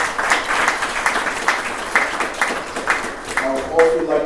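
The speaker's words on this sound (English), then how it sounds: "Please round of applause." Applause from an audience at a medical school white coat ceremony, steady clapping with broad bursts that swell and fade over a few seconds, a voice speaking over it near the end.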